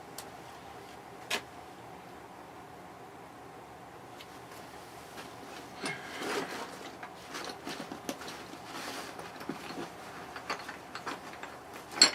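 A ratchet with an adapter loosens bolts on an Emerson Quiet Kool fan motor, giving faint, close mechanical clicks and ticks in irregular bursts that grow busier toward the end, with no talking.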